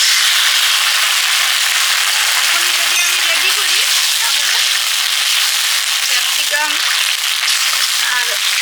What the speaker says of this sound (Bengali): পেঁয়াজ ক্যাপসিকাম হালকা ভাজা হয়ে গেছে এবারে সস দিয়ে দিচ্ছি